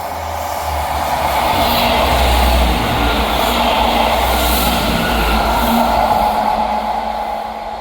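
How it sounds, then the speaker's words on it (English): A ScotRail Class 158 diesel multiple unit passes through North Queensferry station, a loud close rumble of engine and wheels that swells and holds steady, then eases slightly as it goes, with no one talking. "Passing through now is the 1635 ScotRail service to Edinburgh Waverley from Perth."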